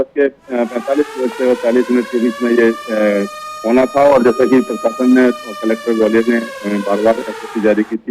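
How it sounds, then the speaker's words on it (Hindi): A civil defense siren wails during a blackout drill in Gwalior, its slowly rising and falling tone sounding steadily beneath a man's close, continuous speech. "अभी ये अब सायरन की आवाज सुनाई दे रही है"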